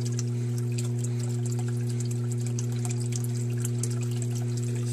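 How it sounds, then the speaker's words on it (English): Water trickles and pours over an aquaponics bell siphon, a steady splashing flow under a strong constant mechanical hum, likely from a pump, with no talking. "Okay, so now the water's flowing over."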